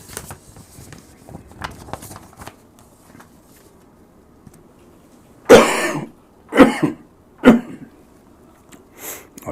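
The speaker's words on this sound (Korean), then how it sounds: "죄송합니다. 지금 기침이 좀." A person coughs several times in a quiet studio, with three loud, close bursts coming in quick succession after some soft rustling and faint throat noises.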